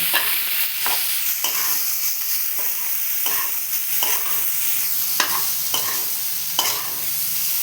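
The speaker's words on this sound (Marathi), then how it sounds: "आता आपण भाजी परतून घेऊया" Potato bhaji is stir-fried in a pan, a steady close sizzle broken by regular scraping strokes of the spatula roughly every second, with no talking.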